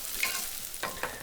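Onion and garlic frying gently in olive oil in a pan, a steady close sizzle with a couple of brief stirring scrapes, with no talking.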